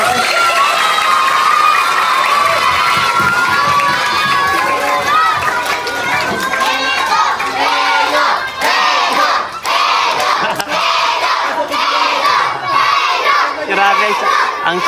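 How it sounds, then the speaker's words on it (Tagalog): A packed crowd at a community outreach gathering cheers and shouts excitedly, with children's voices and scattered claps mixed into a loud, continuous roar that holds throughout. "So palakpak naman."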